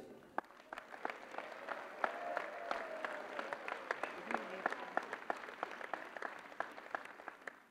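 Audience applause for a deputy at a mayor's 2024 New Year speech in Voiron, a steady wash of many hands clapping throughout, moderately loud and continuous in a hall.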